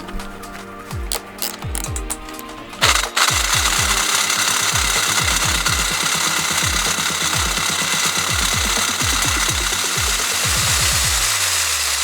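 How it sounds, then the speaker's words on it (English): A power drill fitted with a large bit bores a latch hole through a greenhouse door frame. After a few short start-stop bursts, a loud, steady motor whine takes over, its pitch sagging again and again as the bit bogs down in the wood. "So I switched to the new drill bit and started drilling again."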